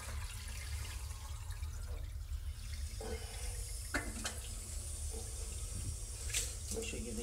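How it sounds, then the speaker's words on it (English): Water draining away from a shower base during a flood test, a soft continuous trickle and gurgle with a few small splashes and drips, fairly quiet and low in level throughout. "As you can see, it's going to drain away."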